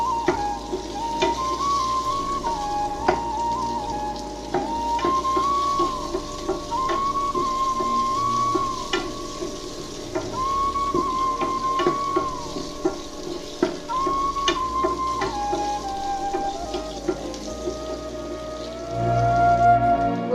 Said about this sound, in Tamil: two to three minutes fry பண்ணணும் அந்த ஆனியன் கலர் மாதிரி இருக்கும்